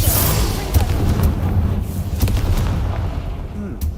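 A Bombarda spell in Hogwarts Legacy blasts apart a barricade with repeated booming explosions, several sharp bursts landing close and loud over a rumbling bed, and talk runs alongside.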